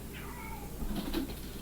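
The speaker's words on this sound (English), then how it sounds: "Can you hear my cat?" A pet cat meows faintly in a quiet indoor room, a couple of soft, drawn-out calls rising and falling over low background hum, with no talking.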